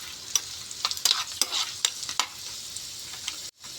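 Garlic and dried red chillies frying in oil, a continuous sizzle punctuated by sharp spatters and spoon scrapes, ending abruptly, with no talk.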